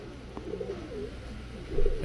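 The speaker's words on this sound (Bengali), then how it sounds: "কাসুরি পায়রা আছে" A Kasuri pigeon coos softly and repeatedly at close range, with low throaty calls that swell louder near the end over faint background noise.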